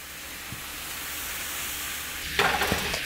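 Wafer paper lace mixture hitting a hot pan set high, a soft steady hiss that swells into a brighter sizzle near the end, close and quiet with a couple of light clicks.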